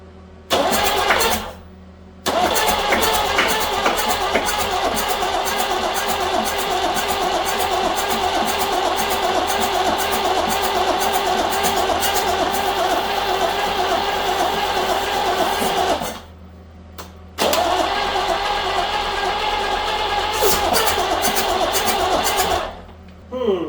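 Peugeot 504 engine, parked since 1987 and suspected of a plugged exhaust, cranking rapidly in long rhythmic bursts with brief pauses between attempts, catching and running roughly, loud and close.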